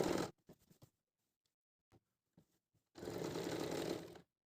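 A sewing machine stitching a woolen salwar runs in a few short, close bursts, then in one steady whirring run of just over a second against silence.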